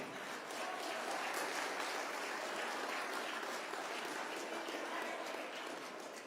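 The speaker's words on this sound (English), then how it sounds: "Let's give a round of applause for them" A crowd at the Hardanger Open armwrestling event in Norway gives a steady round of applause, dense clapping that holds evenly for several seconds before fading slightly at the end.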